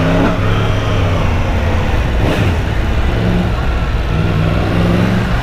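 A Yamaha MT-10 motorcycle engine revs hard in first gear, a loud, steady roar with one sharp rising surge midway, recorded close throughout with no speech.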